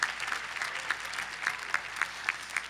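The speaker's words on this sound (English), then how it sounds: "Round of applause for the idea." Steady applause from a commencement audience, a dense even patter of many hands with a few sharper claps standing out, heard at a moderate distance.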